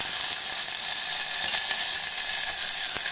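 Small shallots sizzle and crackle steadily in hot oil in a pan, a dense, even hiss close up with faint scattered pops throughout and no talking.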